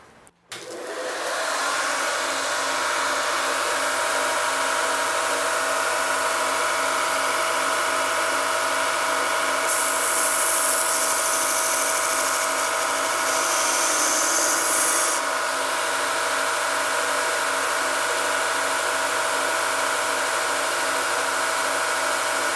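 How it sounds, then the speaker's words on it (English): A belt sander runs steadily while roughing in the curve of a spokeshave blade, a constant whining drone with a brighter grinding stretch partway through as the steel meets the belt. "going to go back to where belt sander set up and rough in the curve of the blade"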